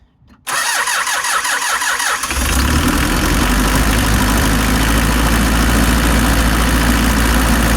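A 1995 Delica L300 van's diesel engine, with newly replaced fuel injectors, cranks with a rapid starter whir for a couple of seconds, then catches and settles into a loud, steady idle rumble.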